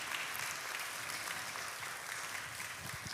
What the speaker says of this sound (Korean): 귀한 강의 전해주신 우리 구인유 작가님께 다시 한 번 더 큰 박수 전달해 드리겠습니다